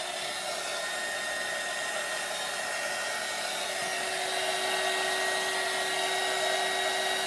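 A heat gun blows steadily over resin clouds on a sunset resin clock, giving a continuous close, loud whooshing airflow with a constant whine and no talking.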